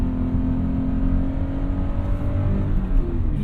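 Toyota 86 engine held at full throttle, a loud, steady drone whose pitch climbs gradually as the car accelerates, with no voices over it.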